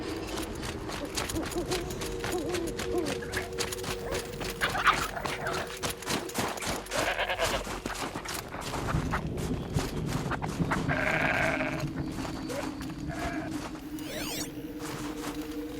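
Goats in Horizon Zero Dawn bleating several times over steady game ambience and rhythmic clicking, with calls scattered through the clip at moderate loudness.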